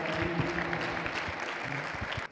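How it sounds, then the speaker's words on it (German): Applause for a participant at a high jump training session, a short burst of dense clapping from a group of people nearby, continuous and fairly loud before stopping abruptly. "Applaus bitte für den Teilnehmer."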